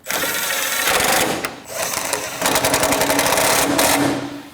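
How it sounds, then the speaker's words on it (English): Power tool whirring in bursts while tightening two 12 mm horn bracket bolts on a 2012-2016 Honda CR-V 2.4L, loud and close with short pauses between runs. "Tighten those two bolts."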